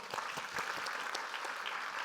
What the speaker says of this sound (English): Let's get another round of applause.